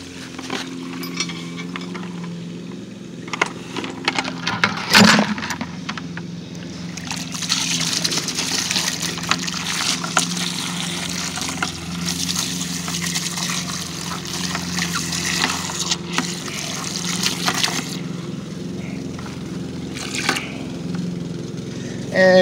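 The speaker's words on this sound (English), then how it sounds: "then you're going to fill up the bucket again and rinse all the soap out of the fibers of that line" A braided line being rinsed by hand in a bucket of clean water to wash soap from its fibers: continuous trickling and sloshing with a sharp knock near the start, close and moderately loud, with no voices.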